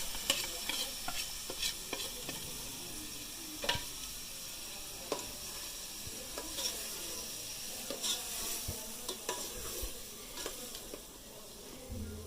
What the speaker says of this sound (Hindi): कीमा हमारा भून चुका, मसाला डालते हैं।